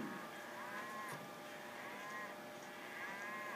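A cattle herd on grazing pasture lows in several drawn-out moos at a moderate distance, overlapping against a steady outdoor background hiss, with no voices.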